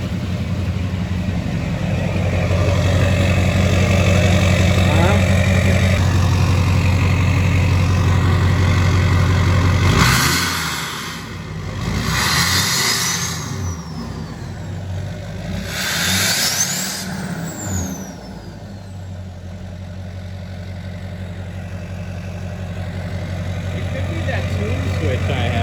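A 2006 GM LBZ Duramax diesel truck with a new 5-inch MBRP full stainless exhaust rumbles at a loud idle, then revs hard in a few deep surges and settles back as people talk nearby.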